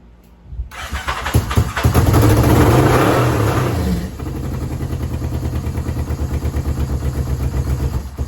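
Muscle motorcycle engine catching after the choke is used, roaring up loudly in a strong rev that peaks and then falls to a steady, rapid, throbbing idle close by.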